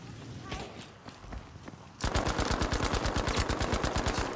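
Machine gun fire in the World War II shooter Battlefield V: quieter scattered shots at first, then a loud, close, rapid burst of evenly spaced rounds firing continuously for the last couple of seconds.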